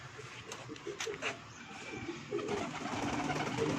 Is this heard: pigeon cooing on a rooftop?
yes